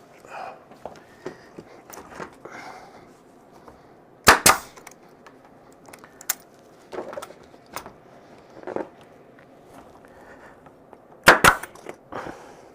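A nail gun fires twice while a carpentry backdrop is installed: two sharp, loud bangs several seconds apart, with quieter knocks and handling noises between them.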